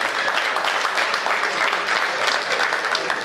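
Applause from the audience at a Hindi comedy poetry show, steady dense clapping holding at an even level for a few seconds with no talk over it.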